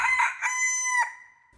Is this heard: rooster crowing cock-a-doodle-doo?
yes